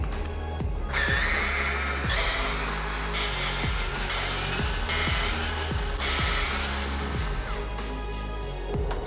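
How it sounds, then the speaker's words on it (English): A small 7.2-volt cordless drill whirs steadily, removing screws from an Apollo Air scooter wheel, with repeated ratcheting clicks and brief pauses, close up and fairly loud, with no talking. "You can then take a little electric drill here."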